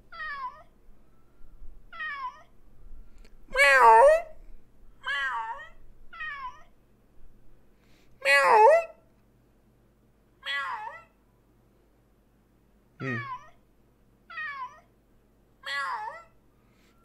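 A series of meows, some short and some drawn out, spaced with pauses and seemingly imitated by a person's voice, with no other talking.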